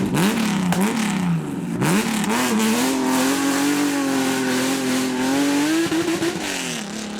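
A Lamborghini supercar at the Beaulieu Supercar Weekend revs hard and loud close by, its engine note climbing and holding in a sustained roar with brief dips between pushes.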